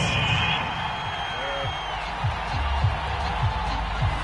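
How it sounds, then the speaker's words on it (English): Stadium crowd at a franchise league football game reacting with a sustained, displeased roar after a penalty flag, broad crowd noise with scattered whoops and thumps, fairly loud and continuous throughout. "Well, the crowd doesn't like that."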